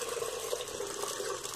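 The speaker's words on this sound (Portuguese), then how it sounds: "Vamos colocar aqui toda a quantidade de água." Water pours steadily into a pot of hominy corn that was soaked for 24 hours, a continuous close splashing fill with no talk.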